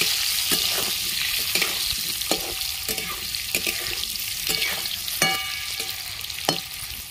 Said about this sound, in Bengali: সামান্য একটু হলুদ দিয়ে দিচ্ছি। লাল করে ভেজে নেব আলুগুলো।